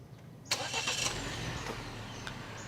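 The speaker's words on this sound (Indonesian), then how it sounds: "Oke, sekarang kita nyalakan mesinnya." A Wuling Almaz RS car engine starts remotely from a phone, a sharp onset followed by a steady mid-pitched idle hum that continues to the end, with no talk.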